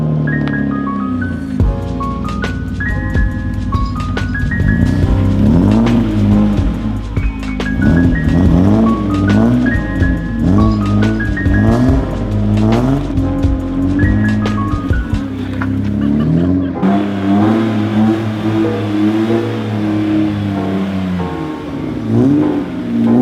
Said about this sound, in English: The E36 sounds more like a rotary than any of my rotaries.